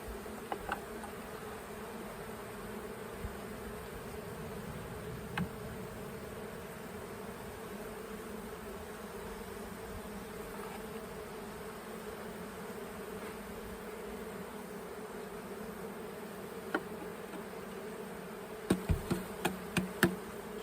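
A steady, dense hum of many buzzing bees shaken from a hive frame fills the air throughout, with a few sharp knocks and taps near the end.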